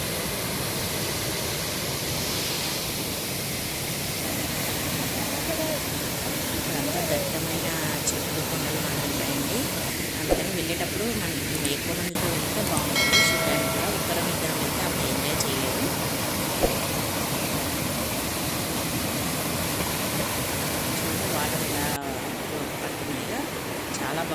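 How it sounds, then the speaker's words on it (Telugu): Pinnapuram waterfall seen from above, a constant hiss of flowing water that sits under the whole clip with only small variations and a few faint incidental noises. "ఇక్కడ వాటర్ ఫ్లో అవుతుంది చూడండి ఇదే వాటర్ ఫాల్స్"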